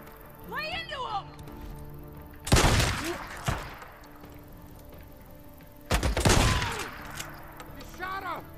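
Two loud, close shotgun blasts ring out about three seconds apart in the zombie survival game Days Gone, each a sharp broadband crack with a short decaying tail, amid quiet background and brief voices.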